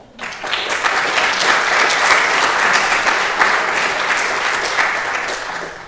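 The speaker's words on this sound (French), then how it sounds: "tout le monde a applaudi" Audience at a French conference on Scenari process models and training catalogues applauds, a dense, steady ovation that starts abruptly and holds at full strength for about six seconds with no talk.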